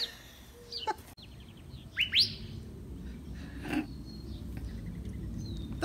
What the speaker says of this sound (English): The birds are talking to us.